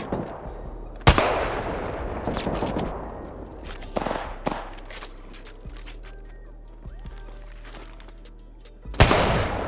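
Gunfire in a first-person shooter game: repeated bursts of automatic weapon fire, with loud sharp shots near the start and the end and smaller bursts and impacts between them.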